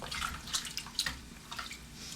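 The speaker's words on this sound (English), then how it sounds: "Now I'm going to take some of my reserved potato water," Reserved hot potato water for Austrian home cooking is poured into a pan, a soft continuous splash and trickle with a few brighter spatters, close and moderate in level, without talk.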